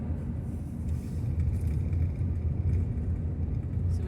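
A van drives along a winding road up at the top of a ravine, giving a steady low engine and road rumble that stays continuous throughout with no talking.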